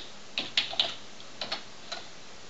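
Fingers type on a computer keyboard, giving a short run of about eight crisp clicks, close and clear in a quiet room.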